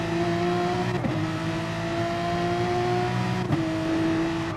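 Race car on the Nurburgring GP circuit in a racing video game, braking hard into Dunlop corner: steady loud engine drone with downshift blips near one and three and a half seconds, continuous and close.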